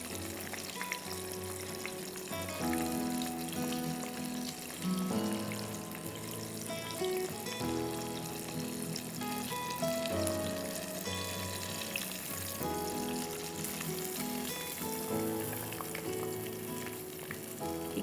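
Chicken frying in oil, a steady, dense sizzle filling the whole stretch with faint clinks and stirring, no one talking over it.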